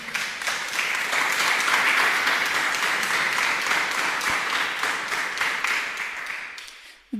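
A church congregation breaks into sustained applause during a worship service, a loud dense wash of many hands clapping that holds steady for several seconds before tapering off at the end.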